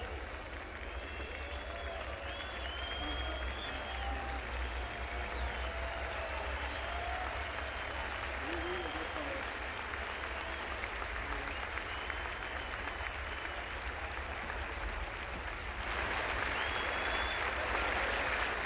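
At a 1969 Roland Garros men's tennis final trophy ceremony, a large outdoor crowd sustains steady applause mixed with whistling, heard from a distance as a dense wash that swells slightly near the end.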